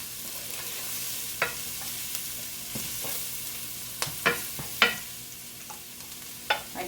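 Broccoli stir-frying in a pan, a steady background sizzle broken by a series of sharp scraping clicks and stirring strokes, with a few louder clatters near the end.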